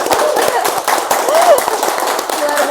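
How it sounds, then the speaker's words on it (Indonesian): An audience at a public discussion event applauds in a dense, continuous patter of clapping, with a voice speaking over it and occasional louder claps, moderately close throughout. "Ayo kita tepuk tangan"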